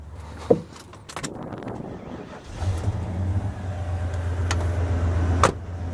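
An older car with a dual exhaust system, not yet warmed up, cranks and starts after a few clicks and clunks, then settles into a low, steady, rumbling idle up close.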